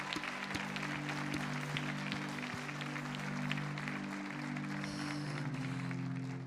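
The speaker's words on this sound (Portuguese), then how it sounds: "vamos aplaudir muito a presença do Senhor" A church congregation applauding together, dense sustained clapping from many hands heard steadily over a low backing of music, fairly close and full throughout.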